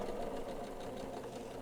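A sewing machine runs steadily while stitching fabric for a spring cloak, a continuous mid-pitched mechanical hum with faint rhythmic needle ticking, close and moderately quiet, with no voices.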